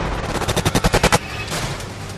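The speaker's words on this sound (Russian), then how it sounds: "Раздались выстрелы." A burst of rapid gunshots rings out in a Russian crime setting, about eight sharp, evenly spaced cracks in quick succession, then a lingering noisy echo as the firing stops.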